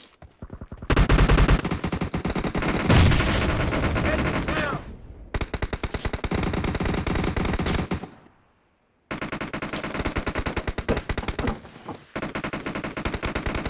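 Automatic gunfire in the PUBG Mobile game rattles in long, loud, close bursts separated by short gaps and one brief silence, rapid shots packed tightly together.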